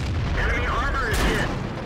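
A tank cannon shell hitting an IS-8 heavy tank in a tank combat game: a deep, rumbling boom with a short metallic ring, under a voice.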